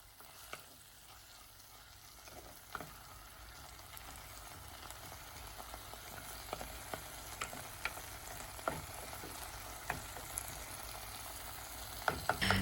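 Drumstick leaves (muringa) being stirred and cooked in a pot for a healthy Kerala curry, with a steady close-up sizzle and scraping stir noises running throughout, no talk.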